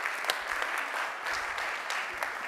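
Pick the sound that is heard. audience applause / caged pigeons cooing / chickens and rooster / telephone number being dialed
audience applause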